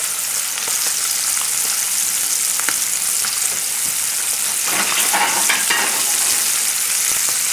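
Smelts frying in hot oil in a pan, a steady close crackling sizzle that runs throughout, with small pops and a brief stir of fish in the fat partway, no voices.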